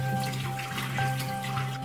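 Water trickling and draining steadily from chilled, cleaned crappie fish, a continuous close splashing flow with no talking.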